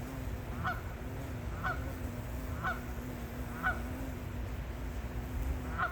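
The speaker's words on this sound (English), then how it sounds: "could hear the geese out on the hole there." Geese honk on a Palm Desert country club golf course, five evenly spaced calls about a second apart, fairly near, over a low steady background hum.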